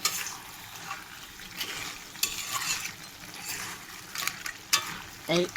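A spoon stirs crab and bottle gourd curry, scattered with coriander leaves, in a sizzling pan. Soft scraping strokes sound close by over a faint frying hiss, with a few brighter clinks toward the end.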